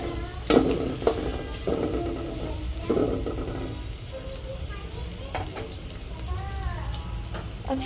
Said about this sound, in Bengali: তো এই যে পেঁয়াজটা লাল করে নিচ্ছি।